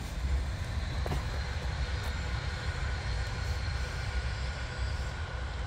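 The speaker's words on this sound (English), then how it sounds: "You see a train going through there now" An Avanti West Coast train rolls across a railway bridge, a steady loud rumble and drone that holds evenly throughout with no clear start or end, heard from close by outdoors.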